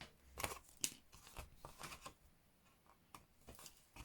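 Scissors cut through designer series paper, with a quiet, close run of crisp snips and papery crunches spaced unevenly over a few seconds, no voices.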